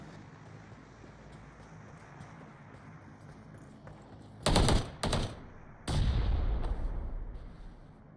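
Gunfire in the battle royale game BGMI during a tournament match: a few sharp, loud bursts of shots mid-clip, the last one trailing off, over a faint steady background hum.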